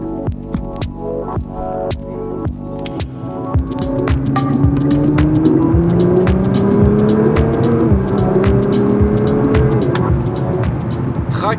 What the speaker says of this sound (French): rejoindre la route avec cette extraordinaire Nissan GT-R afin de découvrir son comportement